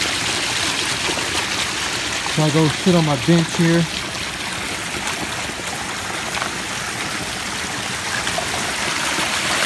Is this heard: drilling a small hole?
no